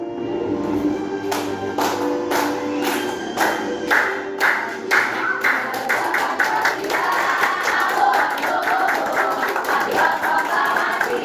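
A class of schoolchildren claps hands along to a national song, at first in separate loud claps, then thickening into dense, continuous rhythmic clapping mixed with crowd noise.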